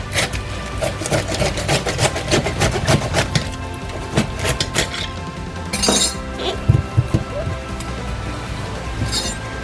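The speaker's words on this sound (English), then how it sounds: "we're just going to start chopping some cabbage here." Repeated sharp knife chops cutting through crisp cabbage on a board, a steady rapid rhythm of crunchy strikes close up, with a few louder cracks.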